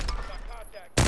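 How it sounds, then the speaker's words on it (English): Gunfire in Call of Duty Warzone: a steady spray of shots under the game mix, ending in a loud, dense burst of fire close by. "I'm getting shot from the right."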